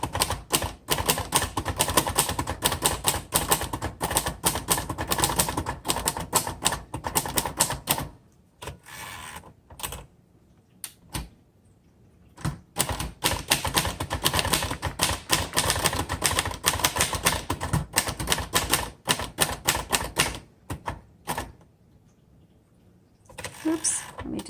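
Typing on a 1960 Royal Heritage vintage typewriter, a softened, buffered keystroke action: dense runs of rapid key strikes with brief pauses and a couple of longer stops, close and loud, with no talking.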